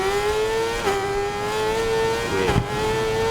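A Suzuki GSX-R1000 motorcycle engine in the racing game Ride 4 holds a high, steady, buzzing rev under full throttle, with brief dips as gears shift.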